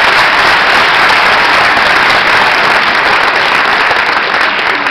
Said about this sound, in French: c'est de vous applaudir très fort parce que c'est complet depuis hier après-midi.